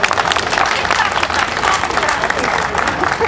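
An indoor audience applauds to greet the police of the Republic of Armenia, a dense, steady wash of many hands clapping at close range for a few seconds.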